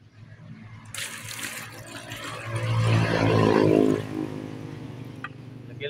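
Water pours into a container to mix Triple 14 fertilizer for bougainvillea plants, a continuous close splashing rush that swells in the middle and eases off toward the end.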